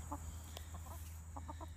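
Chickens cluck in several short, clipped bursts, some spaced and some in quick clusters, over a steady low hum and background bed.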